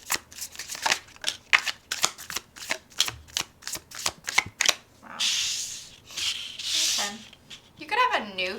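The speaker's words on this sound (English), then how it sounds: "I just felt the need to shuffle a little more" Tarot cards are shuffled in a rapid run of crisp, close riffling flicks, followed by a few softer sliding and bridging sounds, with a voice speaking partway through.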